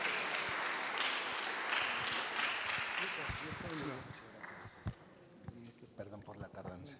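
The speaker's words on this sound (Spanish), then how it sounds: "vamos a recibirlo con un fuerte aplauso como muestra de nuestro afecto" Audience welcoming a guest with warm applause, steady clapping that fades after about four seconds into room noise, shuffling and a few knocks, with people talking underneath.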